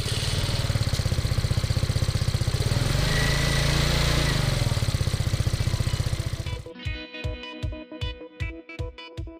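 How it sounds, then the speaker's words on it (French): Keeway City Blade 125 scooter with an air-cooled, fuel-injected four-stroke engine, running as a loud, steady buzz close by, then cutting to a series of separate rhythmic revving pulses. "Le City Blade est doté d'un moteur 4 temps, refroidissement par air"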